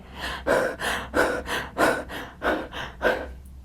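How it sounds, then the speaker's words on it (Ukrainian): Rapid, shallow panic-style breathing performed as a demonstration, about eight quick breathy gasps in steady rhythm, close and fairly loud with no talking. "Панічне дихання це тоді, коли ми дихаємо верхньою поверхнею."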